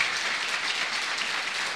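Church congregation applauding the Lord in a contemporary worship service, a steady dense wash of clapping, moderately loud and continuous with no voices.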